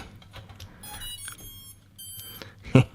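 Electronic beeps from a small toy drone sound close by, a series of faint tonal chirps followed by a louder, brighter beep near the end, over a low background hum.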